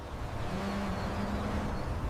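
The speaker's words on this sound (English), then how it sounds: "Our trucks are arriving at the doors now." Trucks pull up to the loading doors of a protein bar factory, a steady, loud engine rumble with no voices over it.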